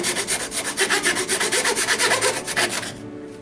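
A fine-toothed hand saw cuts through a wooden board in steady, rapid back-and-forth strokes, close and loud, stopping just before the end.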